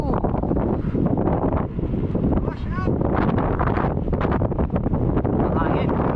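Strong seaside wind buffets the microphone during a bike ride along the coast, a loud continuous low roar and rumble throughout, with faint voices partly audible beneath it.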